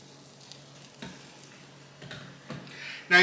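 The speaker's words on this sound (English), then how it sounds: "Now you are going to hear a little bit of sizzling going on" Soft, steady sizzling of liquid in a hot glass tray while making phyllo bread pudding, with a few sharper crackling bursts, close by and fairly quiet, ending in a louder hiss.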